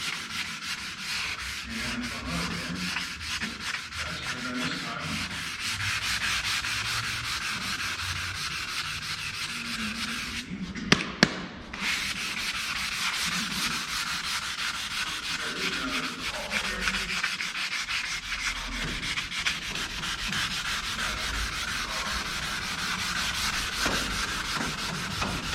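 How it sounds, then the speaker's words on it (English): Sandpaper of 320 grit rubs by hand across a car firewall in steady back-and-forth strokes, a continuous close scratchy hiss with a brief pause partway through. "I'm sanding the Firewall 320."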